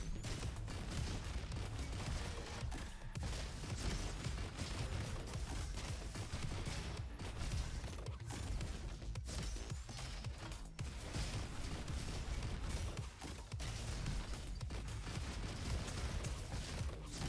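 Beluga Cannon fire in the shooter game RoboQuest, a dense, loud, continuous barrage of booming shots and blasts with no pauses.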